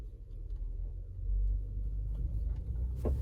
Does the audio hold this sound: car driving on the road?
yes